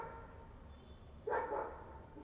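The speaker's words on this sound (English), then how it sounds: "there is a background noise by some dog" A dog barks faintly in the background during an online software webinar, a single short muffled bark burst rising briefly over a low steady room hum with no talking.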